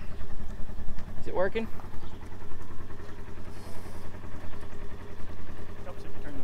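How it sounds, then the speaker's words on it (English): A homemade flamethrower's electric pump running, a steady, loud, rhythmic motor chug and clatter up close, with people talking over it. "Flip this toggle switch. When you flip the switch, it should turn on the pump."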